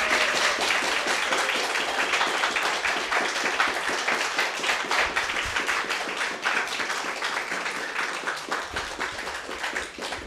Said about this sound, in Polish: Poprosimy o brawa Marysia Górczyńska.